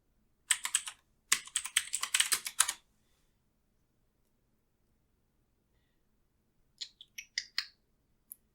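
Quick bursts of computer keyboard typing come close and fairly crisp, two clusters of keystrokes at the start, then silence, then a short, softer run of taps near the end.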